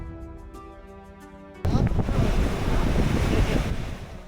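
Waves wash onto a seashore during a village deity celebration on the Srikakulam coast, a steady surging roar with strong wind buffeting the microphone, taking over abruptly after a brief tonal passage.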